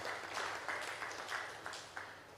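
Faint audience applause at an African local content roundtable, a soft, even patter of many hands heard from a distance for the organizing team, steady and brief.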